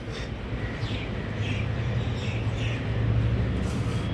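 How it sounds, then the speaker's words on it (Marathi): Birds chirping outdoors: a series of faint, short, repeated chirps rising over a low background rumble, heard at a distance with no talk. "त्या पक्ष्यांचा आवाज येतो."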